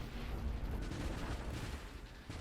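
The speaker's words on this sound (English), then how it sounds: "Just firing my missiles." Missiles fire in the space shooter Nova Drift as a dense, rumbling barrage of muffled thuds and bursts, continuous and moderately loud, with no voices.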